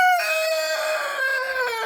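A rooster crows loudly and close by, one long drawn-out call with a strained, nasal tone, and no voices alongside it.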